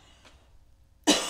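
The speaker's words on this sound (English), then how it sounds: "I'm going to have to cough" A single sharp cough from a person recovering from bronchitis, loud and close, after a faint earlier throat sound in an otherwise quiet room.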